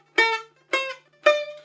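Plucked tones from a primitive single-string resonator tuned to a minor pentatonic scale, three separate ringing notes about half a second apart, each with a sharp attack and quick decay, heard alone and close.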